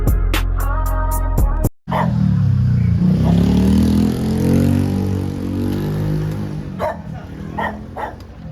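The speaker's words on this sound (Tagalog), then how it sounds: "Papainitin mo natin yung motor mo." A motorcycle engine idles and warms up with a steady low rumble through most of the stretch, starting after a brief burst of sharp higher-pitched sounds and a short pause near the start.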